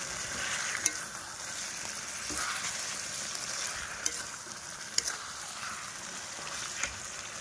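Chicken pieces are stirred into fried spice paste in a hot pan, giving a steady close sizzle and frying hiss broken by occasional sharp scrapes and clicks of the spatula, with no talking.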